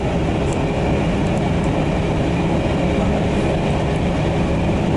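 Inside a locomotive-hauled train on a trip in Holland, a loud, constant rumble of rolling wheels and carriage noise fills the whole stretch without a break.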